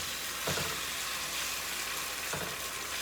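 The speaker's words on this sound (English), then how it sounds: "we are browning the meat on the outside" Steak meat browns in a pan for Thai pepper steak, giving a dense, steady sizzle up close with two brief stirring scrapes.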